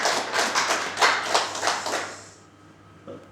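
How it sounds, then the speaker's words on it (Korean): A church congregation claps together during a New Year's service, a burst of rhythmic applause for about two seconds before it fades to quiet. "우리 귀하게 우리 박수 한번 드리겠습니다"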